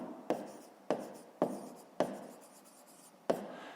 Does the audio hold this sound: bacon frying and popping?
no